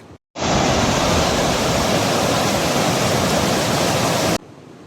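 Loud, steady rush of a swollen, fast-flowing river fills the clip, a dense roar that cuts in abruptly after a brief gap and stops just as suddenly.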